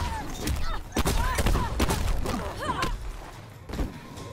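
Sonya Blade's stun grenade in the fighting game Mortal Kombat X goes off amid a flurry of punchy combat impacts and whooshing effects, with several sharp bursts crackling over busy game audio.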